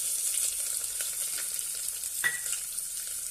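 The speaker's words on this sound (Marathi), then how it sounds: "आता त्यामध्ये एक कांदा उभा चिरलेला आहे तो घालूया" Sliced onion sizzles steadily in a pan of hot oil with bay leaf, with a single stirring scrape partway through, for a mung bean pulao.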